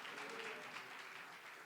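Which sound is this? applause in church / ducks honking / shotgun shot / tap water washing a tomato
applause in church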